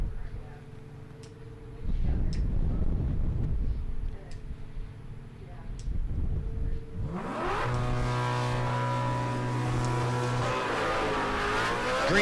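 Drag race run between a Camaro and a Mustang at a Great Bend, Kansas dragstrip: quiet idling and a brief rev, then a loud launch with engines screaming up through gears, rising howl and a shifting note, with a commentator talking over it.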